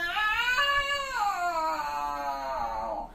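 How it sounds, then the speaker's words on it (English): A cat meows in one long, drawn-out, wavering cry that holds steady before slowly falling, close and fairly loud. "the cat went meow"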